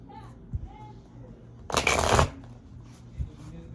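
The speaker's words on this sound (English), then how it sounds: "I want to get a couple of vibe cards, and then I'll look into the tarot" Tarot cards being shuffled close by in one brief burst of riffling, with quiet sounds before and after.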